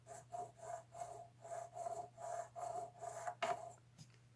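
A file rasps in short, even back-and-forth strokes, cleaning up a guitar nut slot during a setup. About eight light, regular passes, close and quiet, over a steady low hum, with no talk.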